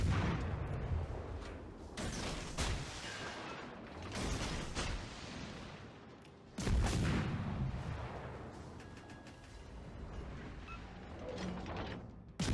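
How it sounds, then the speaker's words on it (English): Naval battle in the game World of Warships Legends, with a Gallant destroyer firing torpedoes: repeated heavy booms and launch thumps recur every couple of seconds over a rumbling, crackling combat background, moderately loud with no speech. "The plan is to shoot some torps to help me gain some distance."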